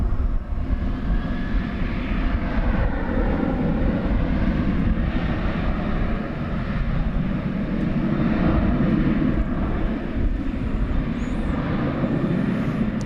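A wide-body airliner on the flight to Dublin at DFW airport, engines roaring loudly and steadily throughout, a close continuous rumble with no talk over it.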